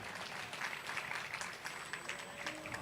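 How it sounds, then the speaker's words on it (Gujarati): Applause from an audience at a Gujarati folk-comedy dayro held during a Bhagavat Saptah gathering in Surat, a steady dense clatter of clapping hands lasting a few seconds at moderate distance. "એકવાર એમને પણ જોરદાર તાળીથી વધાવો ભાઈ"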